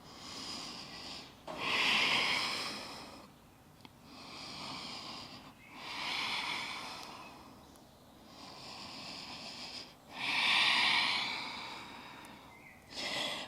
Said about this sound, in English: Take about 3 breaths here.